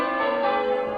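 Church bells ring out over Newcastle and Gateshead, a dense, sustained wash of overlapping metallic tones, loud and steady with no voices.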